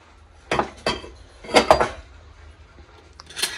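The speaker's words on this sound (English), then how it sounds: "I got some cutlery. I saw these spoons, they're quite cute." Spoons, knives and clay kitchenware are handled up close, giving a few sharp, separate clinks and clatters spaced across a few seconds, with quiet gaps between them.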